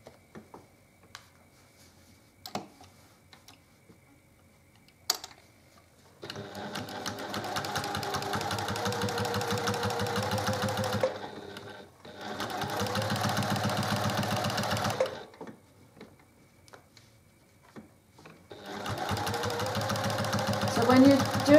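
Domestic sewing machine stitching a diagonal quilting line across a block, running in three sustained bursts at a steady speed with quiet gaps and small clicks between them.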